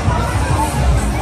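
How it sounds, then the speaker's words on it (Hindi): Dense crowd packed into the famous Beer Corner street in Hanoi, a steady loud roar of many overlapping voices and shouts with no single speaker standing out. "आंखें खुली की खुली रह गई, इतनी भीड़, इतनी भीड़, पैर रखने की जगह नहीं है।"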